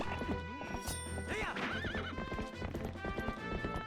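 A horse gallops in Zelda: Twilight Princess HD, rhythmic hoofbeats under game music with a whinny partway through.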